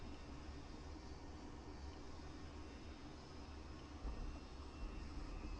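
A Dassault Mirage F1 jet in DCS World touches down, a steady broad engine and wind roar holding throughout, with a slightly louder bump near the end as the wheels meet the runway.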